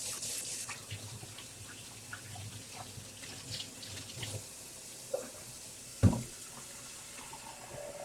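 Water runs faintly and steadily from a tap during yarn dyeing, a quiet wash of flow broken by a few soft knocks and a sharper clunk near the end.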